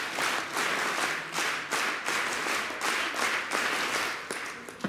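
A gathering of ASHA health workers claps together in welcome at an awareness program. The claps come close and loud in rhythmic bursts, like a patterned group clap, with no speech over them.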